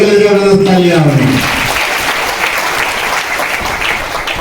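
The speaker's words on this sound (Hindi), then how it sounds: "37 साल नौकरी के लिए निकले, जबरदस्त तालियां होंगी।" Loud, dense applause for a bank manager retired after 37 years of service fills the room, starting under a brief spoken phrase and then continuing steadily on its own.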